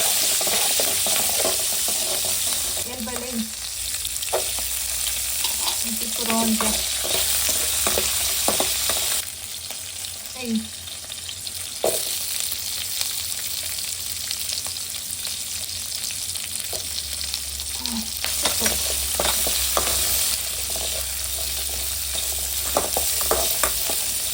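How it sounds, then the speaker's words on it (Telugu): Onions and green chillies fry in a pan for an okra chutney, a loud continuous sizzle broken by scraping stirs and clinks of the spoon against the pan. "పచ్చిమిర్చి మాడిపోతుంది దీన్ని ఉల్లిపాయలు వేస్తాను"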